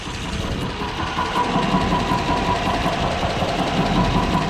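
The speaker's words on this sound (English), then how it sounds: "she's definitely got some lifter tick that we're gonna want to check out" Close, steady idle of a 2006 truck's 6.0-liter engine with a faint repetitive lifter tick riding on the low hum, continuous throughout with no speech.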